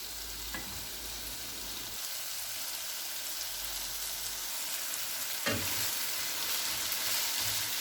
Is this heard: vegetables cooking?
yes